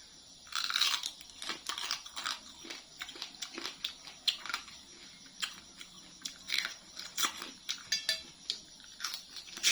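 Crunchy crab rich with crab fat being chewed close up, a steady run of crisp bites and crackling crunches with a faint wet edge, no talk during the chewing.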